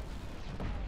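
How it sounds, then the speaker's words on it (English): A sudden explosion in the video game Killzone Shadow Fall during an online multiplayer match: a dense, loud, booming burst that swells midway through a short stretch of rumbling battle noise. "An explosion!"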